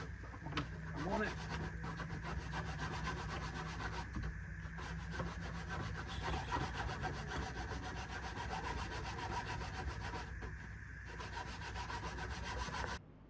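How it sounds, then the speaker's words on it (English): A saw cuts steadily through screws in the timber of a wooden boat's horn, a continuous rasping grind that runs for about thirteen seconds, heard faintly and at an even level. "the screws that we couldn't get out from the bottom are being cut from the side"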